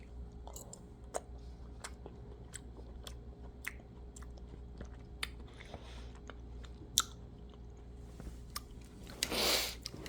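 Person chewing gold kiwi fruit up close, with soft wet mouth sounds and scattered sharp clicks from bites and smacks over a quiet room, ending in a brief louder burst of noise.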